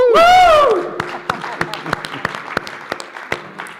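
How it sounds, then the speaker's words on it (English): Sparse audience applause after a church song, opening with a brief whooping voice, then a handful of scattered, distinct claps in the room that thin out toward the end. "Wow, I got an applause."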